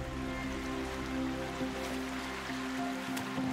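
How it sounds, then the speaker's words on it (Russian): Waves slowly rolling over old stone walls in the video game The Last Campfire, a steady soft wash of water with low tonal game music underneath, continuous and fairly faint throughout. "Волны медленно уменьшались, перекатываясь через старые стены."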